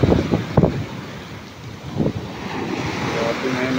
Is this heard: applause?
no